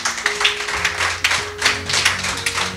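A church congregation claps in a quick steady rhythm, many hands close together in a lively burst of applause, with a sustained musical tone under the clapping.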